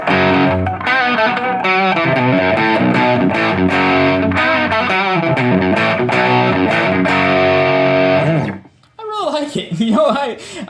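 Electric guitar with Seymour Duncan distortion humbuckers played through a Behringer TO800 Vintage Tube Overdrive pedal, loud mildly overdriven chords and single notes ringing for several seconds, ending with a brief pause and a few short notes.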